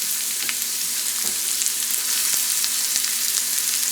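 Onion hits hot oil and sizzles steadily, a loud, bright frying hiss that stays constant throughout with occasional light clicks from stirring.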